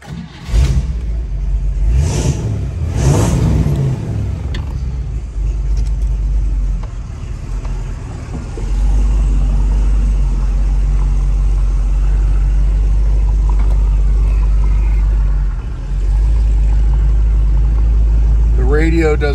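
A 1956 Chevrolet Corvette convertible's engine rumbles steadily while driving, with a brief rev early on and a sustained low drone throughout, loud and close, with speech over parts of it.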